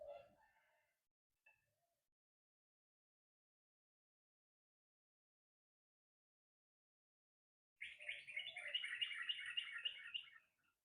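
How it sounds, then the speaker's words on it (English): A bird calls outdoors during a quiet breathing and recovery practice, giving a short burst of bright, rapid chirps near the end after long silence, with a few brief soft voice-like sounds at the start. "Did you hear that? I wonder what kind of bird that is."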